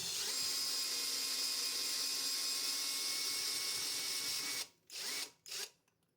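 A power drill fitted with a universal socket backs out a screw, whining steadily at close range for about four and a half seconds, then stopping and giving two short bursts.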